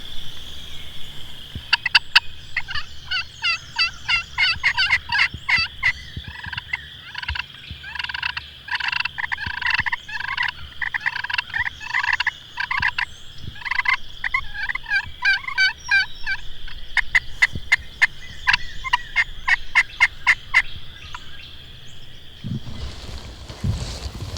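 A wild turkey on Iowa public land gobbles again and again in loud, rattling bursts spread through the whole stretch, ending with a low thump.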